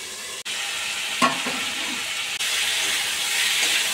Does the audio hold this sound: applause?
no